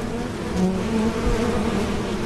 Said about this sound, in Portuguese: ela produzia um estranho som semelhante ao zumbido de abelhas